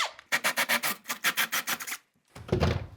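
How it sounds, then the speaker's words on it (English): A hole for 2-inch drain pipe being cut during a shower drain relocation, heard as a rapid run of about a dozen rhythmic rasping strokes, a short pause, then a heavier grinding burst, close and alone. "So I'll just cut a hole for the 2-inch pipe"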